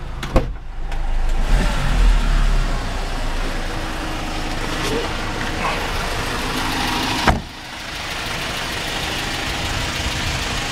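A 2013 Kia Bongo 3 1.2-ton freight truck with a 133 HP Euro 5 engine idles steadily and loudly at close range, with a brief mechanical click or clunk partway through.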